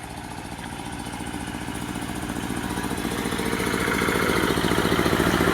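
A Sonalika 740 tractor engine running, a steady rhythmic diesel chugging close by that gradually grows louder.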